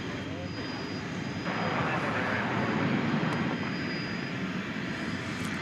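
An airliner's jet engines roar steadily at DFW Airport at night as the plane readies for takeoff on a long flight to Melbourne, a broad sustained rumble heard from a distance.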